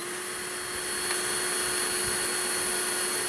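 A Hiroki HRCBP21SET cordless impact drill polisher runs at speed 2, a steady, close motor whine with a high tonal hum that holds without a break.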